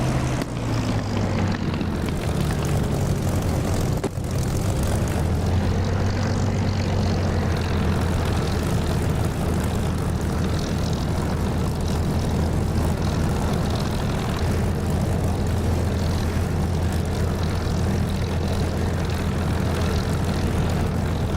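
An aircraft engine drones loud and steady during takeoff from runway 08 at Mozdok in the DCS flight simulator game, a constant powerful roar with no voices over it.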